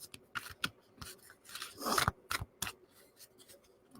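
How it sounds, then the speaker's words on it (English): Cards being shuffled up close: a series of quick papery riffles and flicks in irregular bursts, with a louder flurry in the middle. "So let me just do a little shuffling for you, Laura."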